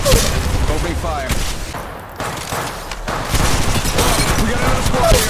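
Rapid bursts of gunfire in the mobile game Apex Legends Mobile, dense and continuous through most of the stretch with a brief lull in the middle, loud and close amid game effects.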